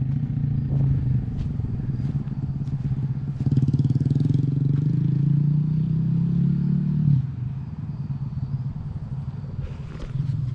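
A Honda Grom motorcycle pulls away in second gear, its small engine droning loudly and steadily up close, rising for a few seconds, then dropping off as the rider eases away.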